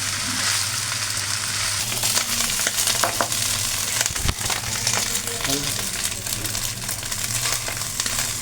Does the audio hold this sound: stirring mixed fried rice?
yes